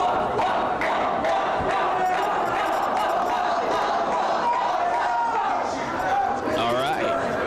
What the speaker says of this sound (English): this crowd showing some, giving some kudos to one of the refs' hard work